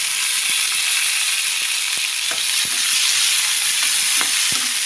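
Shelled peas go into a hot pan and fry, with a loud continuous sizzle and repeated sharp scrapes and taps of a spatula stirring them.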